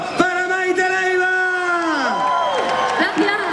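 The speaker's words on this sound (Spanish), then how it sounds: "Aplauso y grito para Maite Leiva." A concert crowd at a Galician orchestra show in O Eixo, Santiago, lets out long rising and falling whoops and shouts of cheering, loud and close, filling the whole stretch.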